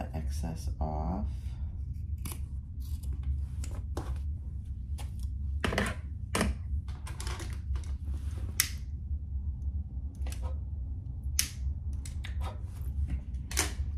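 Scissors cutting excess fabric from a double-stitched laptop or iPad case: a series of short, crisp snips spaced through the clip, with steady background hum and a person speaking between cuts.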